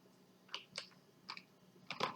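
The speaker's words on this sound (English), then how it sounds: "Now I can type" Quiet typing on a computer keyboard while writing Python code: a few scattered keystrokes, then a quick cluster of clicks at the end, close but faint.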